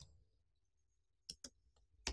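A few quiet computer keys tapped while entering a file geodatabase name into a search box in ArcGIS, a short run of separate clicks late in an otherwise hushed stretch.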